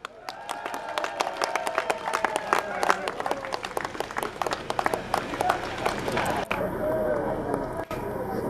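Audience clapping steadily for a golf tournament prize winner at a Pokhara awards ceremony, a dense patter of many hands sustained through the clip, with a voice over the applause near the end.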